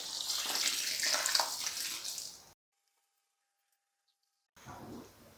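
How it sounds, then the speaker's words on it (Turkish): Twelve litres of 75°C water are poured over malt for a home-brewed Märzen lager, making a close, rushing gush that cuts to silence for about two seconds and then resumes. "Şimdi 12 litre buna 75 derecede su ekliyorum."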